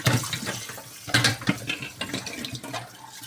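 Tart baking moulds being put to soak in warm water without detergent, with water splashing and pouring and metal tins knocking together at close range; no one speaks.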